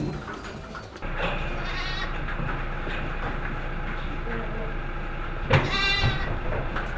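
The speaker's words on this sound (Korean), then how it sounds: "지금 있는 거는 저희가 보호종하고 교잡 염소." Goats on a red goat farm, a protected native breed with brown fronts and white hindquarters plus crossbreds, let out two distinct bleats, one early and a louder one later, over a constant low background hum.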